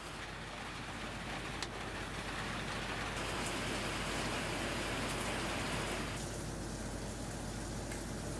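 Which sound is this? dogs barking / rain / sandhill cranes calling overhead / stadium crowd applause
rain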